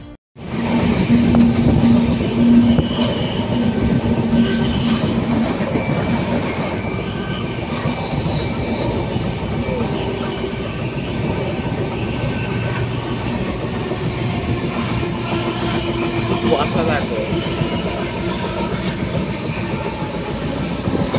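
Howrah–Puri Superfast Express running through dense fog toward Puri, a loud continuous rumble of wheels on rails with a steady rhythmic clatter of the carriages and no talking.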